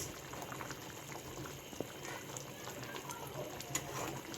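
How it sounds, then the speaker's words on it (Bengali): A pot of Bengali fish curry broth simmers at a rolling boil, giving a soft, constant bubbling that stays faint and even throughout. "তরকারি ঝোলটা বলক উঠে গেছে"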